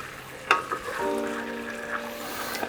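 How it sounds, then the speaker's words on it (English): Sour cream being stirred into a sizzling beef stroganoff sauce in a pan, with a steady soft sizzle and a few spoon clinks and scrapes over about three seconds, no voices. "what I'm doing is giving the sour cream a good stir to blend it together"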